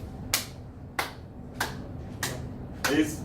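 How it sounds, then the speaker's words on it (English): Five sharp, isolated claps spaced roughly half a second apart, crisp and close in a quiet room, demonstrating clapping therapy. "clapping therapy"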